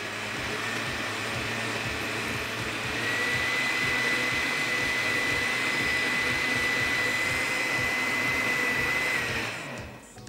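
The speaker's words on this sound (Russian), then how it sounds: "Поместив все компоненты в миксер, тщательно их перемешаем." A blender whirs continuously, mixing drink ingredients into a foamy blend with a steady, close motor drone and a high whine that holds for several seconds before winding down.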